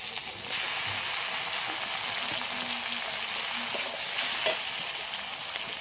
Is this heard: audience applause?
no